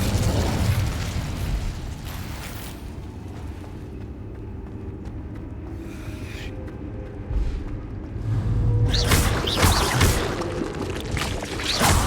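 An Incendio fire spell cast in Hogwarts Legacy flares as a loud, roaring fiery burst that swells near the end, over steady game ambience and music.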